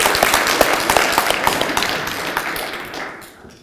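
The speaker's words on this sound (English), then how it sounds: "So can I ask everyone to give a round of applause for everybody that's involved in that?" An audience at a university welcome event gives a round of applause, dense overlapping clapping from many hands that stays loud for several seconds and then fades away.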